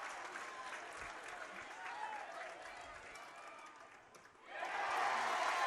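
Spectators at a high school baseball championship game cheer and clap in a steady, moderately distant roar, dipping briefly before swelling louder near the end, with a commentator's voice faintly underneath.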